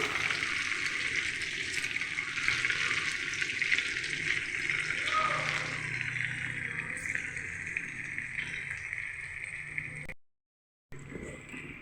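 Idli pieces coated in a mixed masala frying in oil for idli 65, a loud continuous close sizzle with a few faint clinks, stopping briefly near the end before resuming.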